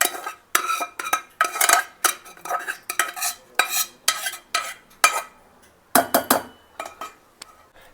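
Cooked Andhra-style kara chutney ingredients are scraped with a metal spoon from a pan into a mixer jar, a run of sharp clinks and scrapes in an uneven rhythm, close and fairly loud, with no talking.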